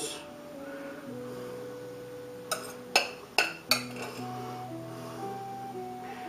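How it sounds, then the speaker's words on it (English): A metal spoon scrapes and clinks against a dish while shepherd's pie filling is spooned out, with a few sharp clinks in the middle over a steady low hum and background music. "Use your spoon, spoon it out."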